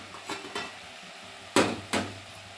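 Bottle gourd lentil dal (sorakaya pappu) being stirred in a pot, four soft scraping strokes of a spoon against the pot, the last two louder, close and otherwise quiet.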